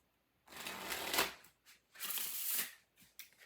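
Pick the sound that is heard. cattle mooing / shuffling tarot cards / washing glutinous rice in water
shuffling tarot cards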